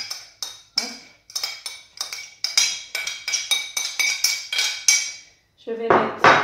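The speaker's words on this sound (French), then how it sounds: "Dans ma cocotte, je vais mettre mes oignons." Onions go into a cocotte for a Moroccan prune and caramelised meat stew, with a series of clinking, scraping strikes of utensil on pot in an uneven rhythm, closing on a louder burst of scraping or shaking.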